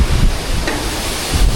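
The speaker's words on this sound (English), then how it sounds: "I haven't seen a waterfall this beautiful" Waterfall in green mountain country of Tibetan China near the Nepal border, a broad, steady rushing roar of falling water heard close up, with gusting wind buffeting the microphone and no voices.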